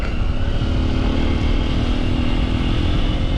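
A Honda XR150 dual sport motorcycle being ridden, its engine a loud, steady, close drone with unbroken rumble and wind roar throughout and no talking.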